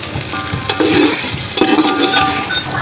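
Cooked beef from the yakhni is mixed into the pilaf masala in a pot, giving loud close sizzling and frying with scraping spoon strokes and a few metallic clinks against the pot, no speech.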